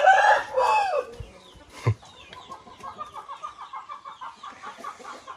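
On a rainy small farm a hen clucks in a run of soft, rhythmic close clucks after a louder squawk at the start.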